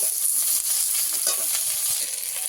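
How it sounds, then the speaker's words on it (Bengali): Potato and eggplant pieces fry in hot oil for a fish curry, giving a steady, close hiss of sizzling with soft crackles and faint stirring, and no voices. "আলু আর বেগুন ভেজে নেব তেল দিয়ে দেব"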